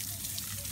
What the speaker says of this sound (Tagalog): Maglalagay na po ako ng tubig sa mga halaman po namin.